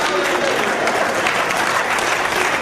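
An audience at a Hindi poetry recital breaks into loud, dense applause, continuous and even from start to finish with no speech over it.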